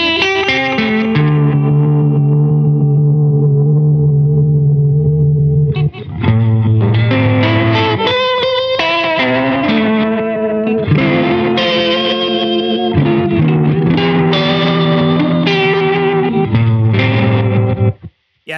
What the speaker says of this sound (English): it sounds like a completely destroyed tape